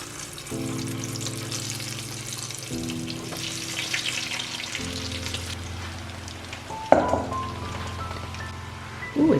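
Potato home fries crackle and sizzle steadily in a hot pan, a rain-like hiss that runs throughout, with low hums in the background and a few clanks near the end.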